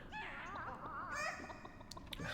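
Chickens cluck and squawk in a Dungeon Keeper game level, a continuous run of overlapping fowl calls with rising, wavering tones, fairly loud and close with no talk over them.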